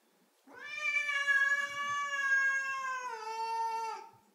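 An angry cat cornered in a bathroom lets out one long, drawn-out, wavering meow close by, sustained for several seconds, with no talk over it.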